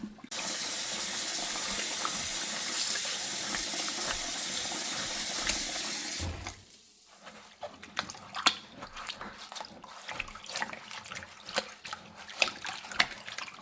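Water runs steadily from a tap while bags of pellets are rinsed, a loud continuous rush for about six seconds, then cut off and followed by scattered drips and small splashes.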